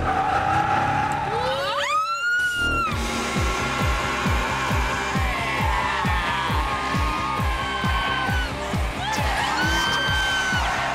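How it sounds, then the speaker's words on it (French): A sports car drifts flat out on a race track, its engine holding a loud, rapidly pulsing drone with rising and falling pitch sweeps as it slides, a sharp gear change near the start and a second climb near the end. "This guy cannot go slow. Always flat out Always, drifting."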